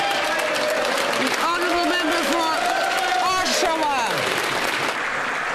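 Applause ripples through the Canadian House of Commons during Question Period, steady and broad across the whole stretch while someone speaks over it in the chamber.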